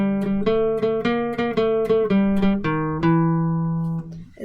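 Guitar picks out a simple song, single plucked notes following one another in an even rhythm, then a final note left ringing and fading, close and clear with no talk.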